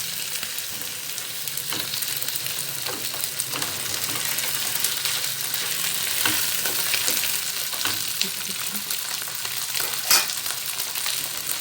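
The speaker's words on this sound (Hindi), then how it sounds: "फ़िश जो है वो प्याज के अंदर और लहसुन के अंदर फ्राई हो रही है" Fish fries with onion and garlic in an open pan over a lowered flame. The sizzle is a steady, soft hiss, with occasional small crackles and pops, and no one speaks.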